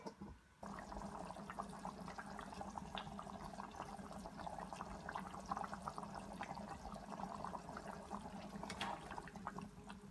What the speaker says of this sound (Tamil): ஒரு சின்ன கிளாஸ் தண்ணி ஊற்றிக்கலாம்